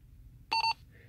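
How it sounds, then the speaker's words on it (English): A Motorola PM400 radio gives a clear two-tone electronic beep as it powers on: two short, loud pitched tones back to back, alone over a quiet hum. "Get a two-tone beep when the radio is powered on."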